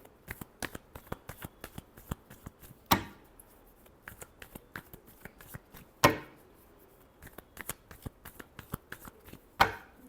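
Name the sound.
shuffling tarot cards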